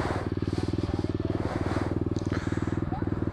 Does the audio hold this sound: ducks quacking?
no